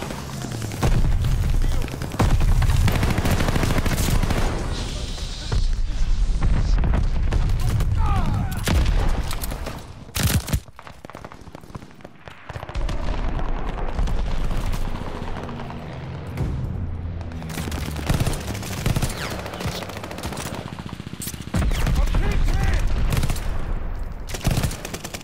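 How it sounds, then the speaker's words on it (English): Dense, continuous gunfire and heavy booms from a shooter video game during a bombing run on the small Shipment map, loud and sustained through most of the stretch with a brief dip in the middle and faint voices now and then. "Bombing run, heads up!"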